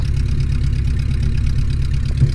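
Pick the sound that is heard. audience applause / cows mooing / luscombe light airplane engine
luscombe light airplane engine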